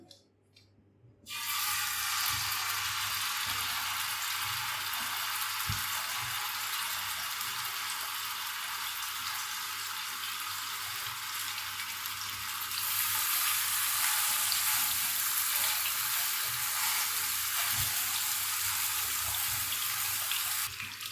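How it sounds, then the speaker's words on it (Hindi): A beef burger patty hits a hot pan and bursts into a loud, steady sizzle that continues, growing slightly brighter partway through, with no talking. "अब हम पैटी डाल देंगे।"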